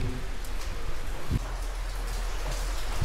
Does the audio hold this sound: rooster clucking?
no